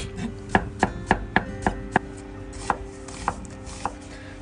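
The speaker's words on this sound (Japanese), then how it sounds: "これサラダ用のきゅうりは薄切りです。" Cucumber is sliced thin with a knife on a cutting board for salad. Crisp, evenly spaced chops come quickly at first, then slow to a few sparser strokes, close and clear, with no talk.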